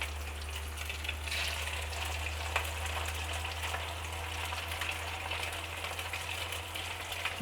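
Steady hissing sizzle of fish cakes frying in a hot pan, a continuous crackling wash with a low hum underneath, no voices.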